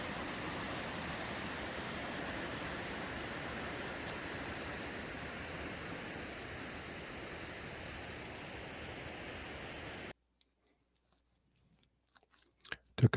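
A mountain waterfall on Imogene Pass roars as a steady, broadband rush for about ten seconds, then cuts off to near silence with a few faint knocks.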